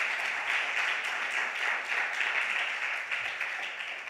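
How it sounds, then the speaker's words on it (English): Audience applause at an experts forum, dense steady clapping from many hands sustained throughout, fairly close and even in loudness. "Let's give him another round of applause."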